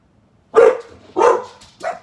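Three loud dog barks, close by, evenly spaced with short pauses between them and no talking.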